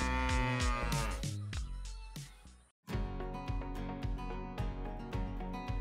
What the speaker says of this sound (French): Les vaches qui se lèvent.